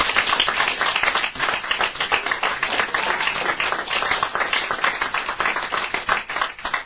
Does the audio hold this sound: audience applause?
yes